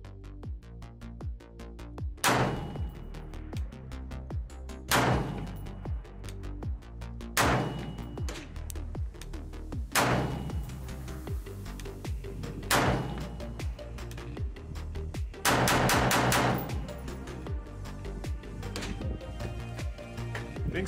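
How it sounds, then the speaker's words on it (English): AR rifle fitted with a Sharps Rifle XPB bolt carrier group firing outdoors: loud single shots spaced a few seconds apart, then a quicker burst of rapid shots near the end, each with a ringing tail. "I'm gonna do 10 rounds. I'm gonna do 5 slowly and then 5 kind of rapid fire."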